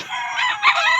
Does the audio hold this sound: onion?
no